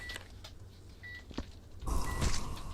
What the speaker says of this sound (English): Excuse the beeping in the background.